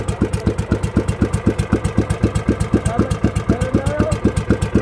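An old wooden bangka's engine idles steadily, its loud, regular thumping pulses repeating evenly close by, with faint background voices now and then.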